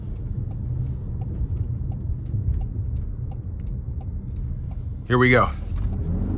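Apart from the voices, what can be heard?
2026 Toyota RAV4 XSE AWD accelerating onto the interstate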